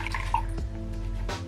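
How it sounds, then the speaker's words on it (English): Water drips and trickles from a wrung face cloth during a night-time skincare routine, a few soft close splashes over a quiet background. "I'm just gonna drain the water off this"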